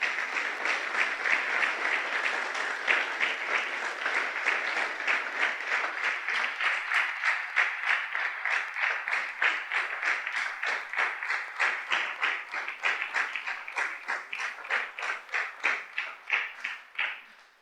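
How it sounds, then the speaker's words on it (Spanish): A church congregation claps loudly and steadily for a long stretch, dense rhythmic applause that thins slightly near the end, with no talking over it. "Le damos un fuerte aplauso al Señor."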